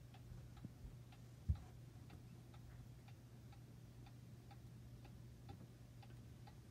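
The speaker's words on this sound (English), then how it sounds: "My beloved clock from my grandfather." A grandfather's clock ticks steadily in a quiet room, with faint, evenly spaced ticks roughly twice a second over a low hum and one louder knock.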